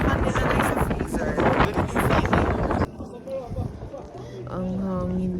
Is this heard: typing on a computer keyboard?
no